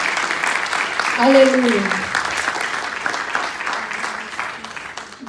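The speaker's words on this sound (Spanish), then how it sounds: "Denle ese fuerte aplauso al Señor." Church congregation applauds the Lord during a Spanish-language sermon, steady clapping running throughout with a voice calling out over it.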